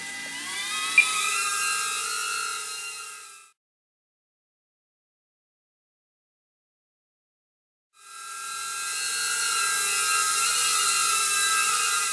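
King Kong Tiny 6 micro FPV racing drone with armed motors, a high-pitched whining buzz with shifting tones, cutting out to silence for several seconds before spinning up again, close and steady.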